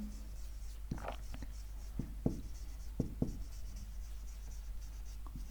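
A note is written on a board during a geometric optics lecture, heard as a few distinct scratchy strokes spaced a second or so apart over a steady low hum, with no voice.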